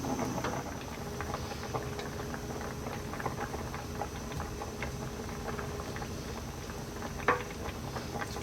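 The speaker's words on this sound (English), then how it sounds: "So they're boiling away nicely." Potatoes boiling in a pot of water on the stove, a steady close bubbling patter with small irregular pops throughout and no voices.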